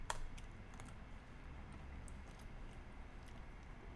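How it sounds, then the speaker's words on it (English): Typing on a computer keyboard: a quick run of light key clicks, with a few sharper taps standing out, continuing steadily for several seconds, close up with no talking. "I'm gonna type out a message."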